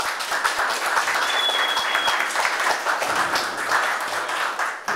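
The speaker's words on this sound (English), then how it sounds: "let's give them a round of applause." Sustained applause from a crowd, dense steady clapping filling the whole stretch at fairly loud level.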